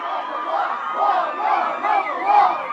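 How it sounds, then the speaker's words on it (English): A large crowd in a movie scene roars and cheers in sustained, swelling waves, loud and close, with no clear speech over it. "Love this crowd."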